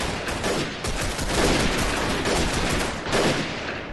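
Sustained gunfire in the Freeman Guerrilla Warfare video game, dense overlapping rifle and machine-gun bursts rattling continuously and loudly with no pauses.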